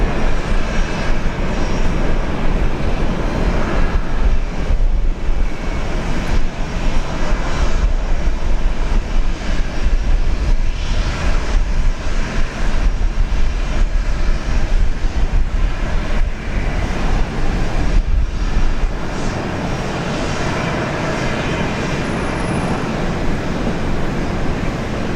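An airliner takes off from runway 01 at Brisbane Airport, a loud, sustained broadband jet engine roar holding steady throughout before easing slightly toward the end, with no talk.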